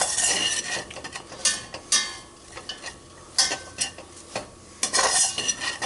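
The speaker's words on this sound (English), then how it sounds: "Still working on sweating the onions." Onions and the holy trinity vegetables sweating in a roux-coated pan for vegetarian dirty rice, with soft sizzling broken by intermittent scraping and stirring strokes of a utensil against the pan.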